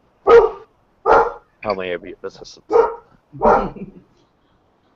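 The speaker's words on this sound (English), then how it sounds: "there's a dog in the background" A dog barks four short, loud bursts at an even pace, and a person speaks briefly between the barks.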